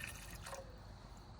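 Water trickles and drips into a small measuring cup beside a camp stove outdoors, a steady liquid pour heard close up against a constant hiss of background noise.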